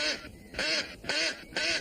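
A duck quacks four times in a steady rhythm, loud and close, the calls harsh and nasal and alone with no talking.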